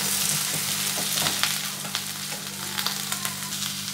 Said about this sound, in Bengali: এর মধ্যে দিয়ে দিলাম সব সবজিগুলো, দিয়ে আবার ভালো করে একটু নাড়িয়ে নেব।